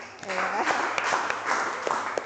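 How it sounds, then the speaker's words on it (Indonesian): An audience in a classroom session claps together, a dense patter of many hands mixed with voices talking over it. "tepuk tangan buat semuanya"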